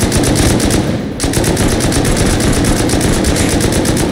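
An M2 machine gun in Rust fires in a loud, rapid, sustained burst of evenly spaced shots, pausing briefly near the middle before the relentless stream resumes close by.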